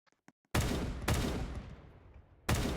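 Sudden loud bursts of gunfire in the video game Brookhaven, a sharp blast followed by a sustained roaring volley, then another abrupt burst after a short lull.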